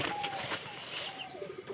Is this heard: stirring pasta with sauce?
no